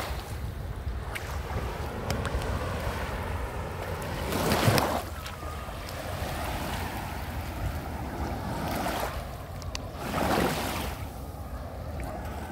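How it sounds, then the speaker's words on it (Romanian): Black Sea surf along the beach at Eforie Nord, with a steady wash of waves and wind rushing over the microphone, and two louder swells breaking a few seconds apart. "Rămâneți aproape să explorăm împreună plaja de aici din Eforie Nord"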